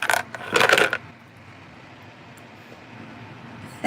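Handmade red and blue dice cast onto a hard surface, a short cluster of clattering rattles in the first second, then quiet room tone.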